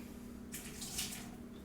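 Hot water, already heated in a microwave for a bourbon hot toddy, is poured off from a measuring cup to leave three-quarters of a cup, making a short splashing pour of under a second in a quiet kitchen.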